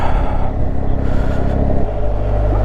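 A BMW GSA 1250 motorcycle engine rumbles loudly and close as the bike starts off, its deep, throbbing note shifting lower partway through with no talk over it.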